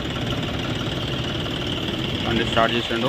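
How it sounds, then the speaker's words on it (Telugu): A John Deere 5045 tractor diesel engine idles with a steady low rumble and rattle, while voices talk nearby over it. "బండి స్టార్ట్ చేసిండు కస్టమరు"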